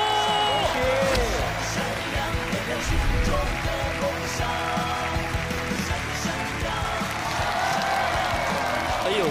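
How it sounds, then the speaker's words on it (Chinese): A studio audience on a Chinese TV variety show breaking into applause, a dense, even patter of many hands clapping that holds steady for several seconds. "来，掌声鼓励，"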